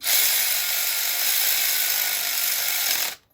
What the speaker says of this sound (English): I'm just gonna run them up with the impact a little bit and then tighten them off.